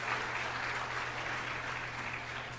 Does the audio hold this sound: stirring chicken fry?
no